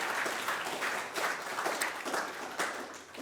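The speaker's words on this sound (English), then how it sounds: "I'm going to give them a round of applause" Audience applause at a Dodd-Frank anniversary policy event, a brief burst of close, steady clapping that stays loud for about three seconds with a slightly uneven, pulsing texture and no voices on top.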